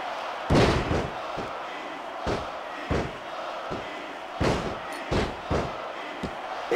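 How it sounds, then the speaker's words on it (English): Heavy body slams and thuds from a Smackdown vs Raw 2006 wrestling video game fight, landing in irregular bursts over a steady roaring arena crowd that swells with each impact. "Superstars are beating the heck out of each other, and this crowd can't get enough of it"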